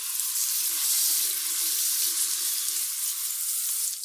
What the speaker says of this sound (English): We give that a quick rinse